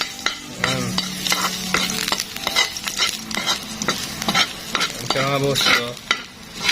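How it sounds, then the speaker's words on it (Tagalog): Garlic sizzles in hot oil over a strong flame, a steady frying hiss broken by scraping stirs of a utensil against the pan, while someone talks briefly over it. "Tunog yung mantika. Tunog yung bawang pala."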